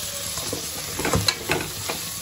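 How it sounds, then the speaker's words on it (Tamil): Tomatoes sizzle and fry in a pan while being stirred for chana biryani, a steady close hiss with a few soft stirring scrapes. "தக்காளி போட்டுக்கலாங்க."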